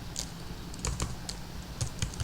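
Computer keyboard typing PHP code, with quick irregular clusters of close, crisp keystrokes at moderate volume and no voices.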